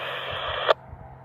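A steady radio hiss carries a GMRS test transmission on a KG-916 radio, with soft audio, then cuts off abruptly with a short squelch burst, leaving near silence.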